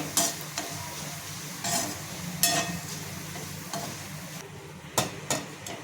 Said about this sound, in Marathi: इथे मी दगड फूल हे पण आपल्याला तळून घ्यायचे